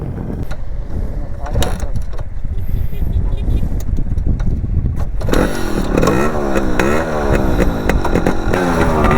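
A motorcycle engine revving hard in repeated surges during a wheelie attempt, loud and close, first under voices talking and then as rising and falling engine tones.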